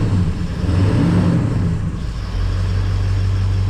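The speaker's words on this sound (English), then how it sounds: "that's the smoothest this truck has ever idled since I've owned it" Ford 7.3 Powerstroke diesel pickup engine idling close by after an injector replacement, a loud steady low rumble that dips briefly before settling into an even, smooth clatter.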